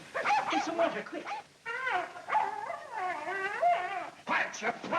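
A dog howls and whimpers indoors on a cold night, drawn-out wavering cries rising and falling in several long bursts, fairly close and loud with no talk over them.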